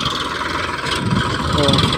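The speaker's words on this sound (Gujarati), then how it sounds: "ટ્રેક્ટર આવી ગયો છે, જાય છે ટ્રેક્ટર" A tractor engine runs at a steady low idle rumble, fairly close and loud, holding an even drone throughout with a faint voice underneath.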